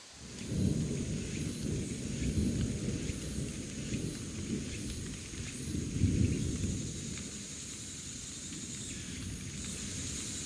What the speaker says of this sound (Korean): 무더운 한 시절 쉬어가라고 반가운 소나기 한 줄기. 팔공산을 적십니다.